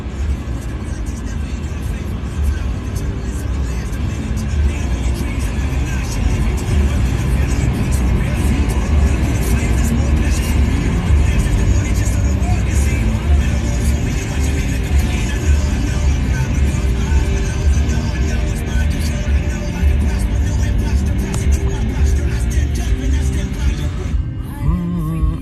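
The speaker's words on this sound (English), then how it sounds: "I don't use a milk van, Vince, or a milk float. It's a Citroen Berlingo." Steady low engine and road drone from a Citroen Berlingo van driving at night, a continuous rumble filling the cabin throughout with a brief disturbance near the end.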